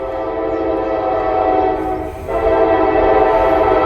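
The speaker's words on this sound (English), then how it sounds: "Yeah, you're hearing that right. We got another train, CSX again." A CSX freight train rolls past in Kentucky, its horn sounding loud and sustained with a brief dip before blaring again over the steady rumble of the cars.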